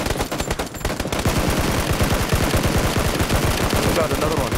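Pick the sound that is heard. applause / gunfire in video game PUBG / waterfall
gunfire in video game PUBG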